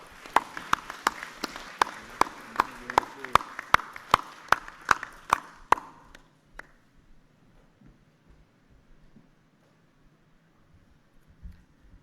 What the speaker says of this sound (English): Round of applause for O'Nally, please.